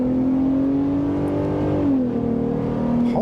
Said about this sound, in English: It's a 10-speed automatic transmission. Normally you'd probably hear it shifting 1, 2, 3, 4, 5, 6 and then to 10, but this one holds on.